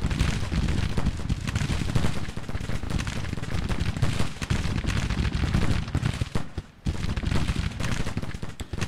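Musket volleys crackle continuously in Grand Tactician: the Civil War, a dense, loud barrage of overlapping rifle fire with a brief lull before resuming.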